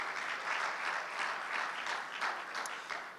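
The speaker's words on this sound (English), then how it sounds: "So please give her a round of applause." A conference audience applauds at a public education workforce-readiness event, with dense, sustained clapping from many hands that swells slightly and stays steady, near and unbroken.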